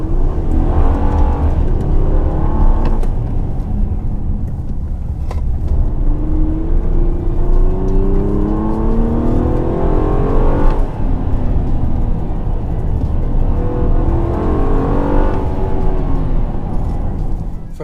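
A 2017 Honda Accord Touring's VTEC V6 pulls through repeated climbing revs while accelerating, heard from inside the car as a smooth, continuous engine rumble that rises in pitch several times without any talk.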